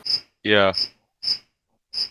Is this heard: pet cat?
no